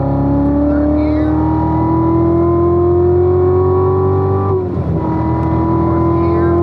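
A Corvette C7 Z06 engine accelerates in third gear on a racetrack, a loud steady roar climbing in pitch before a brief shift dip.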